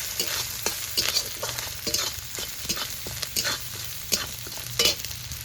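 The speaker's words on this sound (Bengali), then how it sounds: "এবার একটু নেড়ে চেড়ে নেব" Chopped chillies fry with salt in a pan, a steady close sizzle broken by repeated scraping strokes of a spatula as they are stirred, with no voices.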